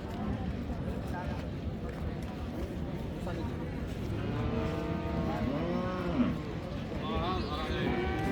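Cattle at a cattle market at the Raniganj haat in Dinajpur, where Friesian cows are sold, with a cow lowing clearly mid-clip amid constant crowd chatter and people talking nearby.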